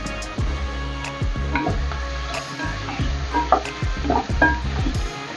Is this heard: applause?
no